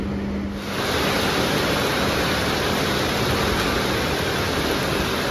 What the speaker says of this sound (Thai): บรรยากาศที่วังเย็นตอนนี้ฝนตกนะครับ